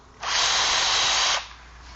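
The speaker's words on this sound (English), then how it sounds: "I'm going to drill some shallow little pilot holes here for the bottom, being careful not to go all the way through the plywood and into the box" A power drill whirs briefly as it bores a shallow pilot hole into plywood, a single steady burst of about one second, close and loud, then stopping.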